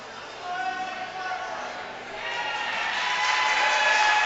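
At a provincial bouldering competition final, a crowd cheers as a climber tops a problem. The cheering and whoops rise gradually and swell louder toward the end, with some faint voices mixed in.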